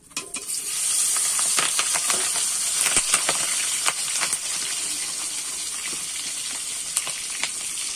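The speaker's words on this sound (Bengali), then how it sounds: "আগে থেকে আমি নুন হলুদ মাখিয়ে রেখেছিলাম চিংড়ি মাছগুলো, এবারে আমি কিন্তু কড়াইতে দিয়ে দেব।" Prawns marinated in salt and turmeric hit hot oil in a kadai, bursting into a loud, steady sizzle and hiss that runs throughout, with sharp crackles and pops scattered across it.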